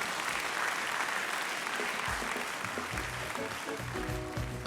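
An audience at a Beninese music awards ceremony applauds, dense steady clapping filling the hall, with a voice over a sound system and music starting to emerge toward the end.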